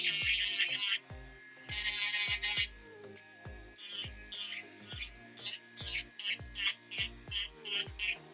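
A carbide nail drill bit grinds down an acrylic nail in a series of short, close, high-pitched rasping passes, about a dozen strokes in a steady stop-start rhythm, with no talking.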